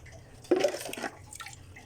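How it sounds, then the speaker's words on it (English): Water poured into a bonsai container packed with soil for a Montezuma cypress, a brief splashing pour of about half a second, moderately close, with a faint trickle after it. "And then fill the container with water."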